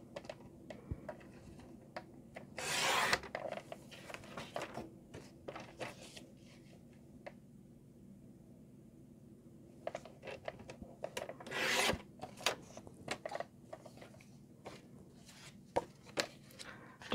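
Cutting two pieces of card for a handmade wiper card: a series of short, crisp snips and rustles of paper, loud and close, with two longer bursts of cutting and scattered clicks between quiet stretches, no talking.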